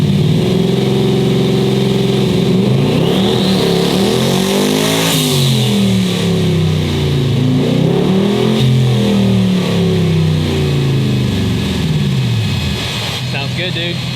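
Tuned 2024 four-wheel-drive Ford F150 with turbo engine and 10R80 ten-speed automatic, loud in-cab acceleration with revs repeatedly climbing and dropping as gears shift, turbo whine overhead, continuous throughout with voices talking over it.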